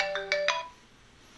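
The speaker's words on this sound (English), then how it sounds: "See, it's ringing already." A phone ringtone from an auto-dialed call plays three quick bright chirps in a row, close and clear, then falls quiet.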